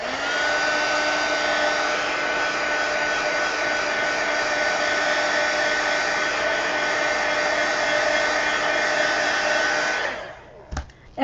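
Hair dryer drying a watercolor painting, a loud steady whooshing whine running close by for about ten seconds before cutting off, followed by a few faint knocks.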